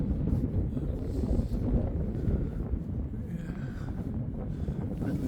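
Strong wind at Flamborough Head on the Yorkshire coast roars and buffets steadily against the microphone, a dense low rumble throughout with no speech.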